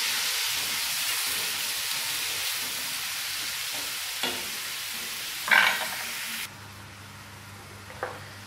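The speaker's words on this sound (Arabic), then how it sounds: "ندبل البصله تاعي شويه." Sliced onion sizzles in a hot pan to soften, a steady frying hiss with occasional utensil scrapes and clinks of stirring, then the sizzle cuts off abruptly, leaving a low quiet hum with a final clink.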